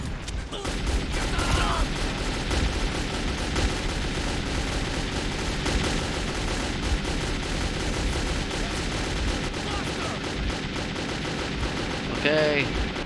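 Heavy gunfire in the post-apocalyptic shooter Metro 2033, continuous loud bursts and overlapping shots throughout, with shouting voices mixed in at moments.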